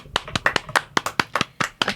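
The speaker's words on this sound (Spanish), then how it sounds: "Aplauso para los guasontles" Small-group clapping in a room, a quick uneven burst of about a dozen crisp close hand claps over two seconds.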